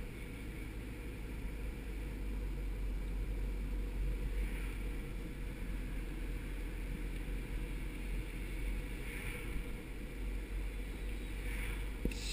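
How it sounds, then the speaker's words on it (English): A 1995 Audi A6 2.0i on the road, giving a steady, even engine and road rumble from inside the car. It stays constant for about twelve seconds, with no talking. "The car is like, please stop giving me gas."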